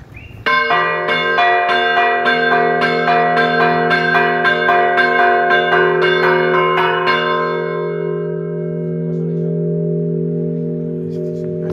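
Church bells in Alcoy ring in a rapid series of loud, close strikes for several seconds, then stop and leave a long shimmering resonance that fades slowly.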